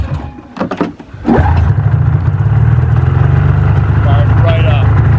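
A Yamaha VMAX motorcycle, with a coolant system failure, fires up after a second of mechanical clatter and then settles into a loud, steady, throbbing idle close by.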